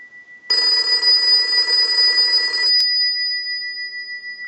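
An Automatic Electric Monophone 40 rotary desk telephone bell rings loudly in one sustained burst of rapid metallic trilling for about two seconds, then stops, leaving a faint steady tone.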